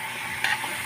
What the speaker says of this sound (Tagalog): Lutuin lang yung baboy. Ayan. Lutuin lang muna yan siya dyan.